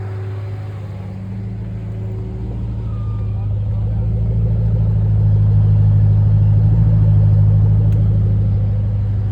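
A car engine idles loudly outside a house at 11 o'clock at night, a steady deep low rumble that swells slightly partway through, with a voice talking over it.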